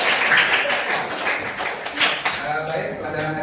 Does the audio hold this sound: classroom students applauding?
yes